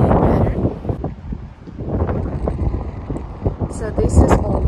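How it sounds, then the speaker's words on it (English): Strong seaside wind on Palm Island, Dubai buffets the microphone in rumbling gusts, with a voice speaking underneath. "oh God, it's windy,"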